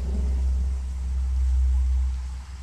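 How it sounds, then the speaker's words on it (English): A car approaching in The Walking Dead video game, a steady low engine rumble that swells slightly as it draws nearer, heard alone without talk. "Sounds like a car."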